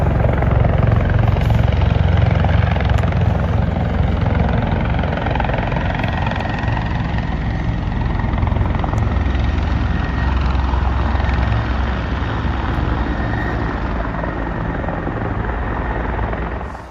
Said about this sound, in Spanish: se ven todos estos helicópteros maniobrando, preparándose evidentemente para algo